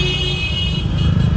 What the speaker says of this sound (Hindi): लेकिन यहाँ ट्रैफिक बहुत होता है इस वाली रोड पे ना